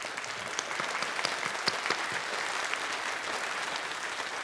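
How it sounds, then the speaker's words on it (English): A commencement crowd applauds the salutatorians at a Class of 2021 ceremony, a sustained wash of clapping that sounds distant and fairly faint, with sharper individual claps poking through the steady patter. "can we give them also a round of applause?"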